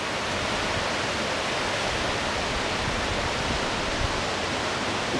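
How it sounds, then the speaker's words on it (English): Steady broadband rushing of a mountain river in Idaho flowing close by, continuous and fairly loud with no pauses or voices. "Next to the river here."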